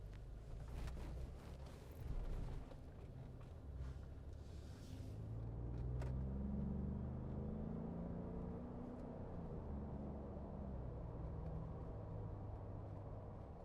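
A turbocharged car engine drones low and steady from inside the cabin while driving, its rumble swelling as the car accelerates smoothly, with faint clicks early on and no talking.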